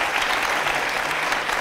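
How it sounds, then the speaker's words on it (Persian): Studio audience applause on a Persian television comedy talk show, a short burst of dense, steady clapping at close range with no talk over it. "این تشویق داره بابا."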